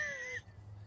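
A house cat gives a short, high-pitched meow nearby, a single brief cry that fades into quiet low-level room background.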